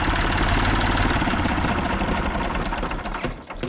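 A Massey Ferguson 135 vintage tractor engine idles steadily and loudly close by, a continuous low chugging rumble that dips slightly near the end.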